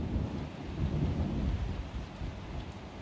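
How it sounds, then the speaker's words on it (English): A heavy late-night thunderstorm in Farnham, southern England, on a hot, humid May night. Steady rain hisses over a continuous low rumble of thunder, with no voices. "This is one of the biggest lightning storms I have witnessed in"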